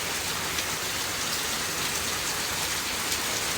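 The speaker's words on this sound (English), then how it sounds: "a little rain or a rainy day sometimes is nice" Steady rain falls on a rainy day as a continuous, dense hiss of drops hitting surfaces. It is moderately loud and even throughout, with no voices.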